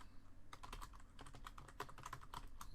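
Rapid keystrokes on a computer keyboard while coding a C++ game in SFML, a steady run of close, crisp clicks with no talking over them.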